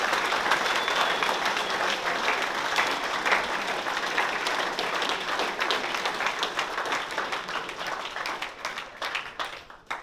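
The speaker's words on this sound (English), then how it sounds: "So give yourself a big round of applause." Dense, sustained applause from a large audience at a senior school prizegiving, loud and continuous for about ten seconds before tapering off toward the end with a few last claps.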